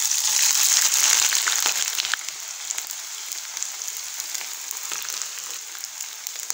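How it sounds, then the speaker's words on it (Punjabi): Onions sizzle in hot oil for a dhaba-style palak paneer gravy, a loud, dense crackling hiss that eases slightly after the first couple of seconds and then stays steady. "ਇਹਦੇ ਵਿੱਚ ਆਪਾਂ ਪਿਆਜ਼ ਪਾ ਦੇਣੇ ਆ। ਪਿਆਜ਼ ਪਾ ਕੇ ਆਪਾਂ ਤਲ ਲਾਂਗੇ।"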